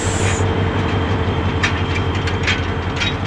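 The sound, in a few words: Upakul Express intercity train departing Laksam Junction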